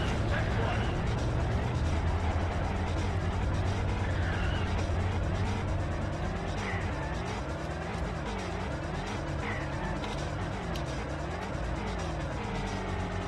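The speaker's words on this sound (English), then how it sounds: "I love that the cars sound like screeching seagulls." Engine whine and warbling, seagull-like tire screeches from cars in the video game Carmageddon 64 run continuously at a steady, loud level, with someone talking over them throughout.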